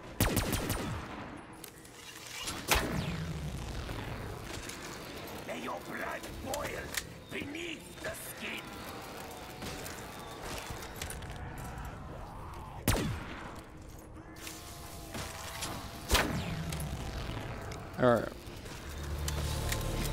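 Gunfire from a gun in a Call of Duty Zombies match, scattered loud shots and short bursts spread across a long stretch of game noise, with frequent talking over the action.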